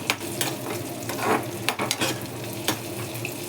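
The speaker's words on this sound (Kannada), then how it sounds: "ಇದನ್ನು ಕೂಡ ಲೋ ಫ್ಲೇಮಲ್ಲೇ ಇಟ್ಬಿಟ್ಟು ಫ್ರೈ ಮಾಡ್ತೀನಿ" Crushed raisins fry over a low flame, a soft steady sizzle broken by a few brief stirring scrapes against the pan.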